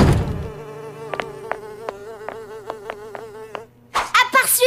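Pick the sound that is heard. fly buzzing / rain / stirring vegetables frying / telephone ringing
fly buzzing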